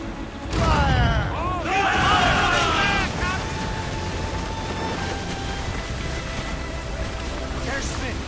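Naval cannon volley from a warship in the Assassin's Creed Rogue video game, a loud booming burst of shots up front giving way to a sustained rumbling battle din, with voices shouting over it.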